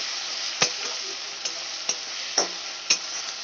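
Onion paste sautéing in a pan for a wedding-style katla fish kalia, a steady sizzle broken by about five sharp spatula scrapes and clinks, close and alone with no voices.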